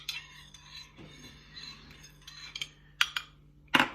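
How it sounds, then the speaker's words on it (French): A spoon stirs Robusta coffee and sugar in a cup, soft swirling scrapes followed by a few sharp metallic clinks against the rim, close and fairly quiet. "Je mélange le café et le sucre."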